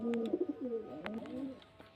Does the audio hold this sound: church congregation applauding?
no